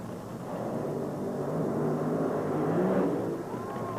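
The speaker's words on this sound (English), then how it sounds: "As you can hear behind me, the top fuel dragsters are getting set for the start of first-round elimination." Top fuel dragsters idling and staging before first-round eliminations at the 1983 NHRA Cajun Nationals drag race, a continuous low rumbling roar from the distance, fairly steady with slight swells.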